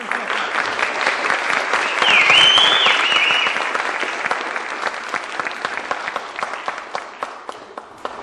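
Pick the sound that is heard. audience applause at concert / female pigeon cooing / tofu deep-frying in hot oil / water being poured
audience applause at concert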